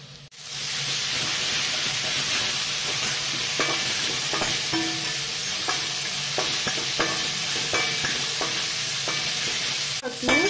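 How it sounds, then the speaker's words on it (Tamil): Onion, ginger and garlic sautéing in a pan, a loud continuous sizzle with repeated scraping clicks of a stirring spoon against the metal, no voices over it. "வெங்காயம் நல்லா வதங்கிடுச்சு. இப்போ நம்ம இதுல கொஞ்சம் இஞ்சி பூண்டு சேர்த்துக்கலாம்."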